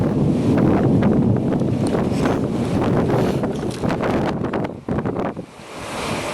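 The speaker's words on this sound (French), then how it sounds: "Vous entendez les rafales de taré?" Powerful wind gusts during a violent summer thunderstorm in Sallanches, in the French Alps, roar and buffet the microphone in heavy, rushing waves that ease briefly near the end before surging again.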